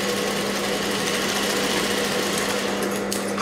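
A sewing machine stitching a prince-cut blouse in a tailoring setting runs in a continuous, steady, close mechanical whir and hum with no pause or talking throughout.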